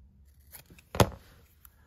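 Scissors make a single crisp snip through a small paper label being trimmed for a miniature cardboard box, one short cut in a quiet room with faint handling noises around it.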